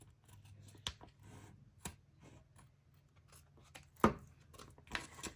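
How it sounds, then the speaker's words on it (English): Scissors trim a paper shaker gift card holder, a few sharp snips and crisp paper rustles at close range, quiet and sparse with faint handling noise between cuts. "Then you can go ahead and trim it now if you want."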